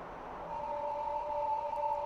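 A homemade PS3-based synthesizer emits a steady, fairly loud synthetic tone whose level swells slightly, with a bright hiss above a sustained pitched line and no talking.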